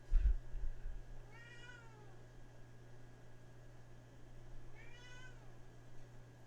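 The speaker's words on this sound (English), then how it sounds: "Come on, meow louder." A pet cat meows twice, faint and a few seconds apart, each a drawn-out rising-falling cry over a steady background hum.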